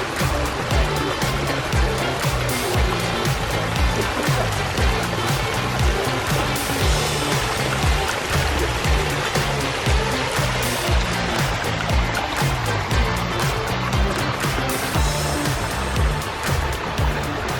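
Waterfall pouring into a large koi pond with a bridge, a steady, loud rush of falling water with constant churning and splashing throughout, no voices.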